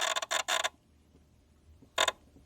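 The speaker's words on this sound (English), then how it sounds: "So you hear kind of that creaking noise, is the best way to describe it, in the fuse box when you're trying to start it." A machine's fuse box creaks while it is being started, with three quick harsh creaking bursts close together, a pause, then one more short burst, loud and close with no talk.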